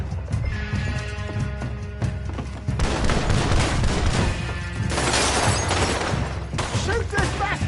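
Gunshots crack in the video game Red Dead Redemption 2 as a loud, sustained fusillade of repeated shots over a busy scene, with horse noises and voices mixed in.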